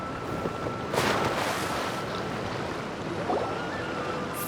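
A waterfall in Genshin Impact rushes steadily with broad hissing spray, constant and fairly loud, with a couple of brief swells in the flow and no voices.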